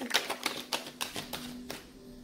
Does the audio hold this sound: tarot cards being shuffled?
yes